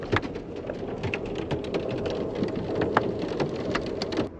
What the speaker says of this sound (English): you can probably hear the hail now hitting